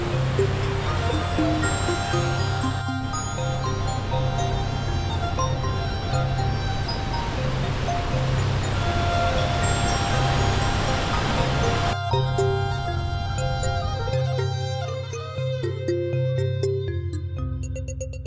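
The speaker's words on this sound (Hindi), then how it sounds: "अपनी गुजरगाह के सबसे तंग हिस्से से एक आबशार की सूरत में गिरता हुआ बहता है।" A river in the Broghil Valley pours as a waterfall through the narrowest part of its gorge, giving a loud, steady rushing roar throughout, overlaid with music.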